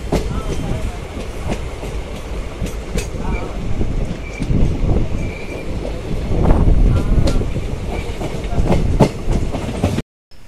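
An unreserved express train pulls out of Kachiguda station, with steady rumbling, clattering wheels and wind buffeting the microphone, loud and close throughout.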